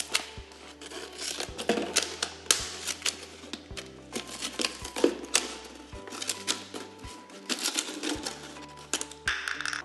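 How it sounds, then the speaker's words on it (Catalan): Scissors snip through a plastic bottle being trimmed for a homemade distiller, a busy run of close, crisp clicking cuts and crackles with no speech. "I a mi amb les tisores em va millor per acabar de retallar"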